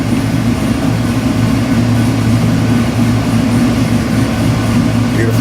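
A 441 cubic inch LS7 crate engine idles steadily on a dyno, a loud continuous low rumble with no change in pitch throughout.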